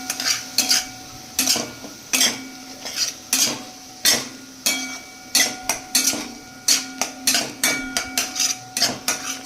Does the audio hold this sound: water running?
no